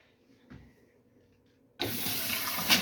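Water gushes from a newly connected tap inside a converted bus, starting suddenly after a quiet stretch with a faint knock, then running steadily and loudly with a brief surge near the end.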